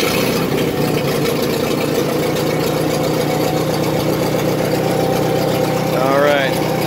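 International 424 tractor engine running steadily and loud with a rough, throbbing drone that holds even throughout; a voice briefly speaks near the end.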